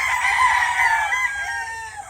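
Early bird gamefowl roosters crowing nearby, one loud drawn-out cock-a-doodle-doo that trails off, with faint background clucking.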